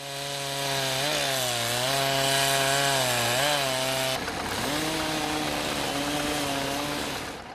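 A logger cuts through a tree that is blocking a tractor in the snowy Siberian forest. The chainsaw howls loudly, and its pitch dips and rises as the chain bites into the wood, changing tone partway through.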